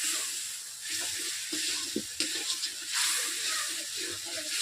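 Sizzling and hissing as a little water goes onto turmeric, cumin and coriander powder frying in a wok for a village-style Bengali chicken curry, a steady close fizz with a few sharp clinks of stirring.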